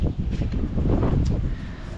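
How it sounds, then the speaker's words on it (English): Strong wind whipping near a riverbank outdoors, a heavy, close roar of gusts buffeting the microphone, rumbling steadily for the whole stretch with no talking. "it is absolutely howling here, right basically close to the riverbank, and the wind's just whipping in"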